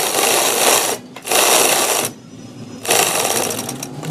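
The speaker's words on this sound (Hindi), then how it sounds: "चलिए इस पर सिलाई लगाना स्टार्ट करते हैं।" A sewing machine stitches fabric for a boat-neck dress in three close, loud runs of rapid whirring, each stopping briefly before the next begins.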